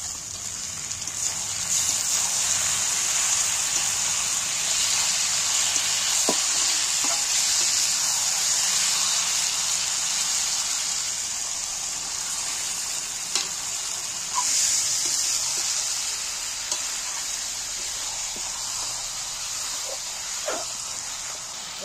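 Marinated mutton hits oil with fried onions, giving a loud, steady, hissing sizzle that runs unbroken for over twenty seconds, with occasional small pops and stirring clicks and no talking.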